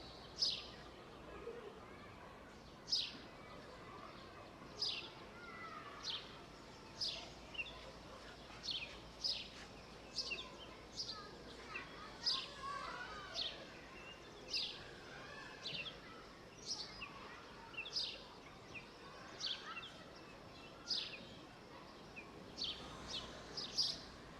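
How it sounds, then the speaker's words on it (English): Birds sing in a park, with short bright chirps repeating every second or so, fairly faint and spread over a quiet outdoor background. "Listen for the happy song of birds."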